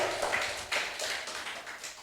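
A church congregation claps, faint and distant, in a loose rhythmic series of soft hand claps repeating every fraction of a second.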